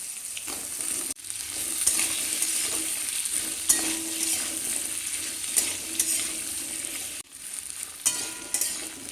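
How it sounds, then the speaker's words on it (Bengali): Potatoes and other vegetables stir-fry in mustard oil, giving a steady close sizzle with scraping stirring strokes, briefly interrupted twice, with no voices. "দেখো এক দেড় মিনিট মোটামুটি নাড়াচাড়া করে একটু ভেজে নিয়ে"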